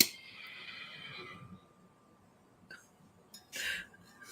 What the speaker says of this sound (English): Did you hear the horse? Did you guys hear the horse?